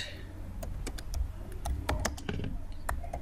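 Computer keyboard keys tapped in quick, uneven bursts while entering text into a PowerPoint text box, fairly close and quiet over a soft room hum.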